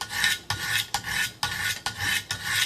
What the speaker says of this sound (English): it get easier and easier to move the diamond stones across the edge